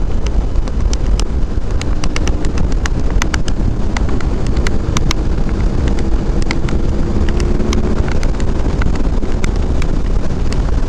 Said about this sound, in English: It is a windy day out here today.